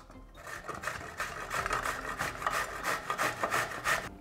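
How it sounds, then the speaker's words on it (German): Fresh zucchini is grated on the coarse side of a grater, giving steady rhythmic rasping strokes, quiet and close, with no talking. "da hinein werde ich frische Zucchinis reiben"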